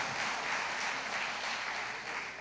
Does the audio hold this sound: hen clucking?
no